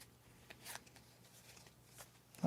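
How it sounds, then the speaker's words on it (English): A deck of cards is shuffled quietly nearby in a few soft riffling bursts, with faint handling noise between them. "I feel like I don't shuffle well enough."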